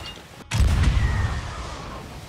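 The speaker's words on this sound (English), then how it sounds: "If they shoot a player, it sounds very different from when they just shoot normal cannonballs." An enemy ship's cannon in Sea of Thieves fires a player instead of a cannonball: a sudden deep boom after a brief gap, followed by a rumbling, whooshing tail that slowly fades.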